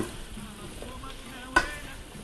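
Potatoes and onions fry in a pan and are left to caramelize, giving a steady, soft, close sizzle with a brief louder crackle near the end.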